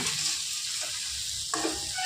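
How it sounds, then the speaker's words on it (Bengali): Okra being stirred with ground spices in a hot pan gives a close, steady sizzle, with a scrape of the spoon partway through and the frying hiss continuing under it. "এবার গুঁড়ো মশলাটা ভালো করে ভেন্ডির সাথে মিশিয়ে নিচ্ছি।"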